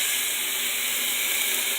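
Beef sliders sizzle in a frying pan, a steady even hiss with no breaks and no talking.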